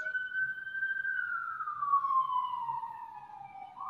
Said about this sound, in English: Yeah, we can hear an ambulance.